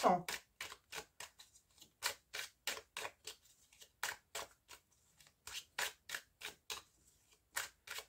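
Tarot cards shuffled and drawn for a nine-card spread, a crisp series of short riffling snaps in an uneven rhythm, close and quiet, with a voice briefly present.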